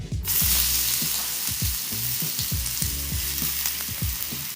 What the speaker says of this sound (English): pop my onions into the pan. I wanna hear a strong sizzle